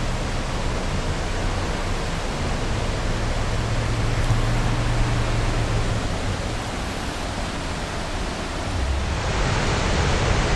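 Roar of Twin Falls waterfall at Rock Island State Park, Tennessee, heard close by as a steady, loud broadband rush of falling water that fills the whole clip without pause.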